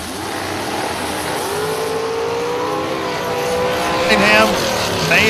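Drag racing cars, door cars and dragsters, roar down the strip at a race event in a sustained loud engine drone that rises in pitch, then a louder pass near the end.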